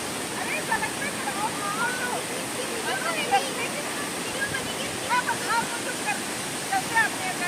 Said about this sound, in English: kynrem waterfalls, the world's, India's seventh biggest waterfall.